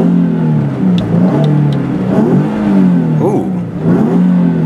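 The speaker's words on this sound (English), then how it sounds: "I'll rev it up a little bit for you." A Nissan 370Z engine revved from inside the cabin with the window down: loud, close throaty exhaust swells rising and falling in several rev blips, with a brief exclamation from the driver.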